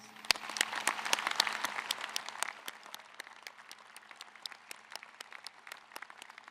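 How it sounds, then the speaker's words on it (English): Convocation audience applauding staff members in a large hall, a dense burst of clapping that thins after a couple of seconds into scattered, fading claps, heard from a moderate distance. "Let's please give these dedicated individuals a round of applause."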